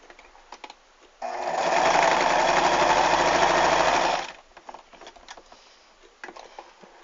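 A sewing machine stitching a seam on a cloth rag doll runs in one steady, loud, close burst of about three seconds, with quiet handling clicks and rustles before and after.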